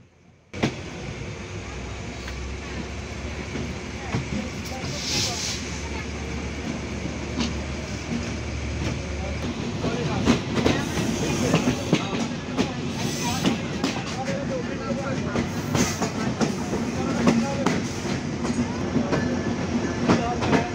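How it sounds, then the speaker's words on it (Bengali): The Chitra Express pulls out of Mirpur railway station, a continuous rolling rumble that builds as it gathers speed, with wheel clatter growing busier and louder about halfway through, and a voice talking over it. "চিত্রা এক্সপ্রেস ট্রেন ছেড়ে যাচ্ছে মিরপুর রেল স্টেশন।"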